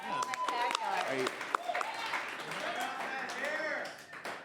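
A late-night show audience claps for a guest's shoes, moderate applause with scattered sharp claps mixed under lively overlapping talk and laughter.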